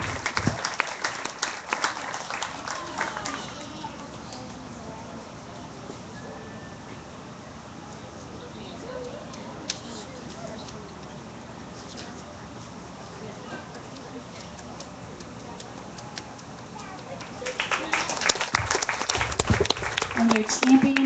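An audience at a beef cattle show claps at the start and again near the end. The applause sounds fairly faint and distant, with quieter murmuring in between.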